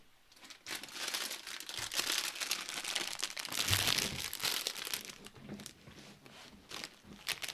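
A crisp packet, potato crisps, is torn open by hand, with continuous close crinkling and crackling of plastic, rising in bursts and fading, no talk.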